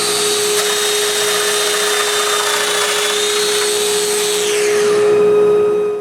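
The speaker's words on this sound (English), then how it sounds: "Now I need to make the domino holes in the interior frames." Domino joiner cutting mortise holes into wooden night stand frames, a steady high-pitched motor whine with a constant tone that shifts pitch near the end as the cut finishes, loud and close with no talk.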